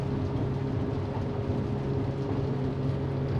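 Twin engines of a Jeanneau Merry Fisher 895 Series 2 motorboat running steadily at about 4,000 rpm at sea, a continuous low droning hum with no talk over it.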